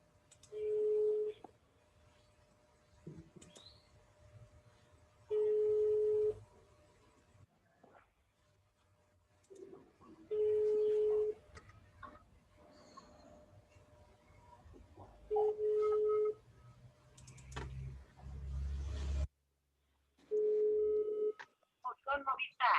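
A telephone call being placed gives a ringback tone: five steady, evenly spaced tone bursts about five seconds apart, with faint voices and background noise between the rings.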